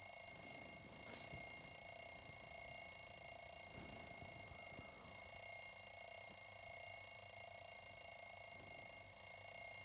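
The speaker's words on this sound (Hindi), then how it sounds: "रूमी अलार्म बंद करो यार, इतनी सुबह का अलार्म क्यों लगाया है?" A morning alarm clock rings without pause, a steady high electronic tone filling the quiet bedroom with no voices over it.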